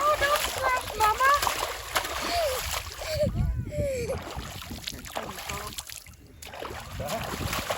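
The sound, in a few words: pig splashing in water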